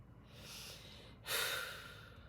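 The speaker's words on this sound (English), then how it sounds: "I'm breathing." A person breathing deeply, first with a long, soft inhale and then a louder, breathy exhale, close and quiet, with no voices present.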